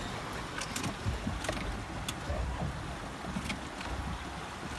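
Motorboat engine running out on the water: a continuous rumbling drone mixed with wind and water noise, steady and fairly loud with small surges, and no voices over it.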